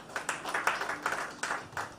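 Workshop audience applauding for a farm initiative event, a steady patter of many hands clapping at moderate distance, irregular and continuous for the whole two seconds.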